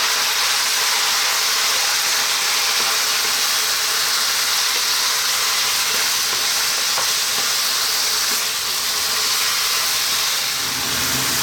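Lamb sizzles in a pan with garlic ginger paste and salt, a steady loud frying hiss with no talking over it.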